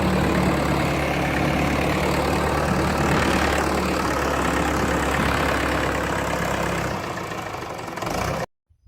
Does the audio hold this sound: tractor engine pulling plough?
yes